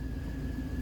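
A truck engine idles after a cold start, a steady low rumble with a faint high whine above it, close and even for under a second.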